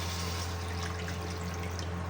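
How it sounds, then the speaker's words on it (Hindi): Water pouring into a cooking pot holding cinnamon, cloves and mutton liver, a steady rushing splash over a low hum that lasts about two seconds without a break. "पानी डाल देंगे।"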